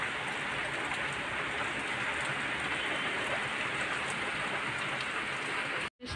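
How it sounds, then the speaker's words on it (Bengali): Steady rain pours down over a rooftop where water has pooled, a dense even hiss filling the whole stretch before cutting off abruptly near the end. "বৃষ্টি দেখুন"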